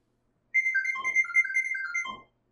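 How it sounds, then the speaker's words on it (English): A phone running the Facewatch facial recognition CCTV app gives its alert sound, a loud, clear run of high electronic tones stepping up and down for under two seconds, heard close and alone. "Stand by the camera, and the phone you'll hear make a horrible noise."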